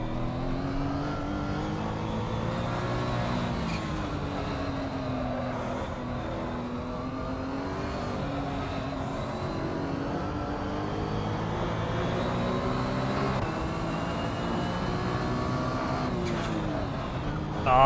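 A Mazda MX-5 race car engine in Assetto Corsa drones steadily at moderate volume, its pitch rising and falling through gear changes. Other cars' engines blend in, and a voice talks faintly over it.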